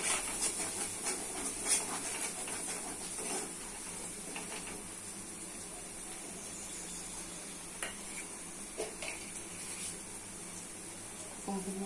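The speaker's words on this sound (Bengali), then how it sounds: "ভালো করে কষিয়ে নিতে হবে।" Spice masala of turmeric, chilli, cumin and coriander with fried poppy seed, peanuts and ginger sautés in a pan, giving a steady close sizzle and hiss with occasional scraping stirs, while a voice talks faintly.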